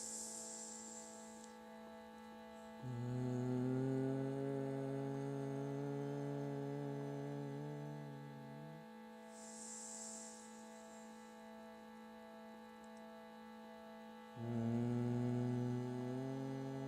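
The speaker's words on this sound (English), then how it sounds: "there's a little restriction of the throat on the humming." A low, steady human hum on a long out breath, sung as a meditative chant with a slightly restricted throat, with two sustained tones separated by a pause and no talking.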